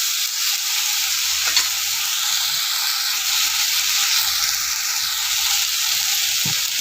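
Masala of cumin, ginger and garlic paste frying in a pan, with a steady bright sizzle throughout and occasional soft stirring scrapes, no talking.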